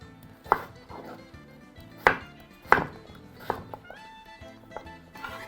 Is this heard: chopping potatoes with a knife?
yes